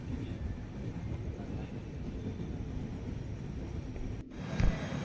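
A train at Kasara station gives a low, steady rumble from inside the carriage, moderately quiet, with a brief sharp knock near the end.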